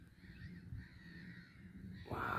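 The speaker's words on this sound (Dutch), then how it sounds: "Hoor je al die vogels?" Birds call outdoors, with faint crow-like caws drifting over a soft background hum and a louder rush of noise near the end.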